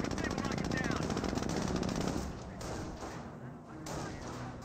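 Machine gun fire hits a Jeep in the World War II strategy game Company of Heroes, a dense, rapid stream of shots that fades into lighter scattered fire, with a commentator talking over the top.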